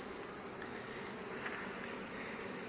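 Honey bees buzz in a continuous, even drone during a hive inspection, a close, dense hum with no talk.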